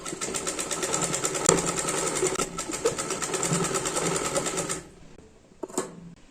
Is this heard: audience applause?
no